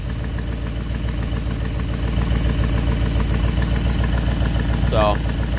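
A Buick 350 V8 with a troublesome oil pump and a possible exhaust leak idles with a steady, low, even rumble throughout, near and continuous, with a brief faint squeak near the end.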